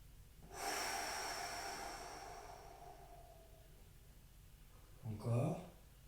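Deep breathing during a home relaxation exercise: one long, loud exhale drifting slowly away, then after a pause a short, sharp breath in, close and alone.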